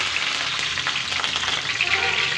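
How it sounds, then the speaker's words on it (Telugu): Curry leaves and green chillies crackle and sputter in hot oil for a fish pulusu, a loud close sizzle with sharp popping bursts throughout. "ఇప్పుడు ఫస్ట్ మనం ఏం చేద్దామంటే కరివేపాకు, పచ్చిమిర్చి వేసేద్దామండి"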